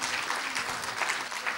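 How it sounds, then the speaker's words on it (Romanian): Audience applause at a youth arts talent awards gala, a dense steady wash of clapping filling the room without a break, fairly distant and even throughout. "Vă rog să-i aplaudați pentru că au fost extraordinari."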